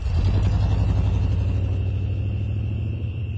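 A car drives away, its engine a loud steady low rumble with a throaty drone that eases slightly toward the end, with no voices over it.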